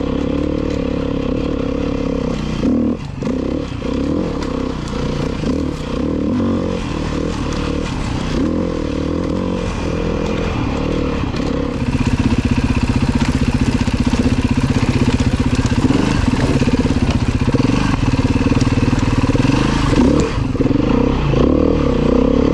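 A Beta 390 RR-S four-stroke dirt bike runs in the middle to upper part of its rev range, a loud, close engine drone with rattling clatter that climbs and holds steadier and louder in the second half.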